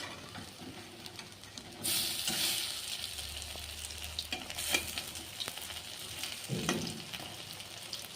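Lentil fritters (bora) fry in hot oil with a steady low sizzle, broken by louder bursts and scraping as they are stirred and turned.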